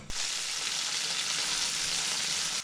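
Meat and mushrooms frying in butter over high heat give a steady, loud, close sizzle that holds without a break, with no talking over it.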